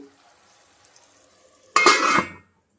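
A lid goes onto a pot of broad beans and potato curry cooking in groundnut oil, giving one loud close metallic clatter and rattle after a quiet stretch of faint cooking sound, then silence.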